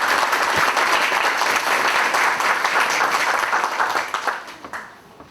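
An audience of students and teachers at a university opening lecture applauds, a dense steady clatter of many hands that holds for a few seconds and then thins and fades out toward the end.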